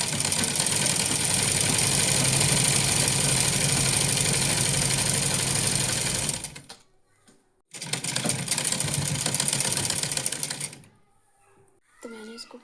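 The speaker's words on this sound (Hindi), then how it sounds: "तो मैंने इसको पूरी लंबाई पे पूरी में मशीन चला लिया है।" A sewing machine runs a long continuous stitch down the full length of dress fabric, a steady loud whirring that stops briefly, resumes for several seconds, then cuts off near the end.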